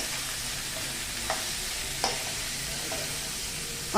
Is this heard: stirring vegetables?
yes